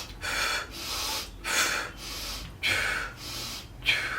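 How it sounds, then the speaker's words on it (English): Demonstration of thoracic chest breathing as a pregnancy exercise: four strong, breathy inhale-exhale cycles in a steady rhythm, close and loud, with no talking. "Hold your umbilicus and do breathing with the thoracic breathing."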